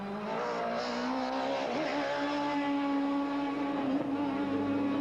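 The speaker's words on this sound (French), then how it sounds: "ne peut plus changer de rapport, sa boîte de vitesse est bloquée en première" A loud rally car engine, stuck in first gear at the 2000 Rali Vinho da Madeira, holds a steady high drone without shifting up, a strained revving note running continuously from start to finish.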